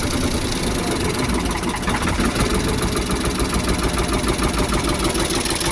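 Ford 4600 tractor engine running rough and unable to rev, a loud close steady chugging idle with an uneven knocking pulse throughout.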